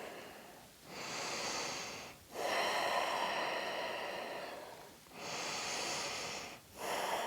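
Slow, deep breathing during a yoga neck and shoulder stretch, with long audible inhales and exhales in a steady rhythm, close and soft, no talking.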